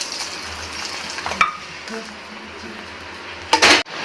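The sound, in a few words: stirring fried cashews and raisins into semiya sago payasam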